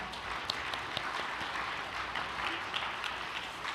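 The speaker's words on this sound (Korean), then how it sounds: "은혜로운 효정 찬양에 다시 한번 큰 박수 부탁드립니다" An audience applauds steadily after a hymn performance at an all-night devotional gathering, a soft, even wash of many hands clapping at some distance with no pauses.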